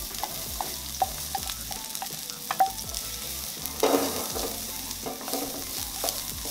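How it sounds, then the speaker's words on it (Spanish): Garlic sautéing in hot oil in a pan, a steady low sizzle with occasional stirring scrapes and clinks close by, no voices over it. "Primero voy a sofreír el ajo"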